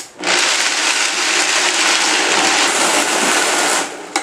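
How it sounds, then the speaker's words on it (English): A Vitamix blender runs at full power for about four seconds, a loud, steady, dense whir that starts abruptly and cuts off cleanly, with no talking over it. "Now this really works the Vitamix, I must say."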